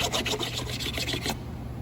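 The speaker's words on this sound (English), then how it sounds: "keep rubbing until it's perfectly level with the surface of the face of the door" Steady, close rubbing on a repaired door surface, with sanding being used to bring the filler level with the face of the door. The sound is a fast, even rasp of strokes heard alone that stops abruptly near the end.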